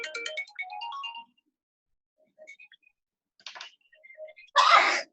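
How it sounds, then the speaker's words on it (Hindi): A mobile phone ringtone chimes during a chemistry lecture, a few short melodic beeps in a run, then a brief pause before more tones return, with a burst of noise near the end and no talk over it. "आपका फोन बज रहा है"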